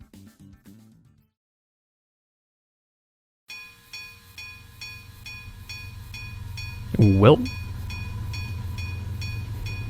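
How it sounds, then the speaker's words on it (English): Trains rolling through a station in a visual novel game, a steady low rumble with repeating rhythmic clicks and a sliding whistle-like tone near the middle, after a brief spoken word and a pause of silence. "Normally only 2 trains are supposed to pass through here."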